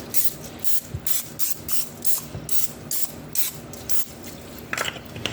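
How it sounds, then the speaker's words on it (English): A can of cooking spray hisses close by onto a sheet pan in about a dozen short, evenly spaced bursts, with a final louder burst at the end. "we're going to go ahead and take a half sheet pan, and we're going to lightly spray it"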